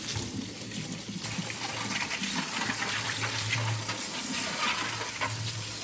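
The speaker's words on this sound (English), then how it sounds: "I'll just rinse these beads off." Beads are rinsed under a running tap, a steady close gush of water with small clicks and rattles as the beads shift in the stream.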